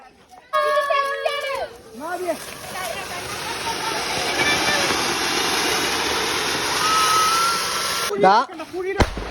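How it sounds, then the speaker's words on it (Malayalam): A steady, loud fizzing hiss of a ground spinner firework at Vishu runs for several seconds, with children's voices shouting at the start and end. "അപ്പൂസിന്റെ നിലച്ചക്രം"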